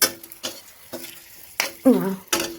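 Bay leaves, dried chillies, cardamom and cinnamon crackle in hot oil in a pan for a soya chunk curd dish, with sharp bursts of sputtering at irregular intervals, close and fairly loud.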